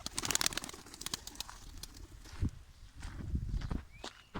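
Pigeons kept inside a Transit van shuffle and flutter nearby, with soft wingbeats, scratchy footsteps and brief scrabbling bursts over a quiet background, with no talking.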